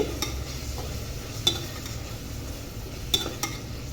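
Ginger garlic paste frying in a pan while being stirred now and then, a low steady sizzle broken by a few sharp clicks of the spoon against the pan.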